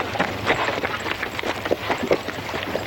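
Quick, irregular hoofbeats of cavalry horses running on soft ground in a 1967 Western TV series, a steady rumble of galloping at moderate distance with no voices.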